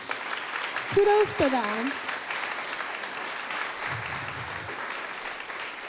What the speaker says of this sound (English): I just want to give another hand clap for all the service providers in the room tonight